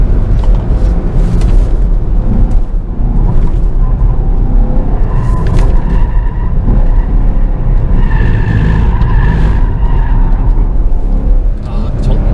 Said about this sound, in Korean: 정점에서 저 가속 페달을 더 밟으니까 이게 뭐라 그러죠? 이걸 푸시 언더라고 하나? 저쪽으로 쪽이 쫙 밀리긴 하네요